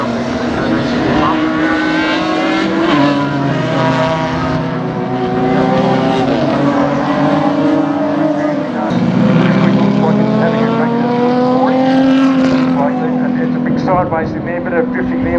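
Big V8 race car in an Improved Production race at Baskerville, roaring loud and close as it pulls down the back straight, the engine note rising through the gears over a steady drone, with a commentator talking throughout.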